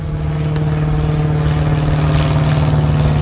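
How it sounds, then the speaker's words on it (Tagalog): A propeller airplane drones overhead near an airport by a wooded hunting area, a steady loud engine hum that persists throughout without fading. "madalas yung mga ugong ng kwan dito guys, eroplano."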